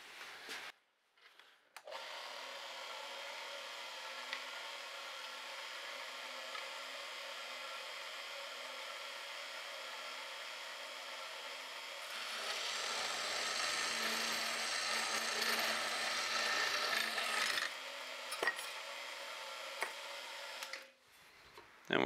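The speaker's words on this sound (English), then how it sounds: "So now we're just going to cut the end of the bolt off." Power tool cutting off the protruding end of a bolt on a brazed-tang chef knife, a steady loud grinding whine running for about twenty seconds, rising harsher and brighter midway, with no talking.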